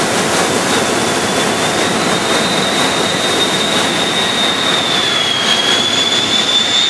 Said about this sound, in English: Then we got another plane coming in.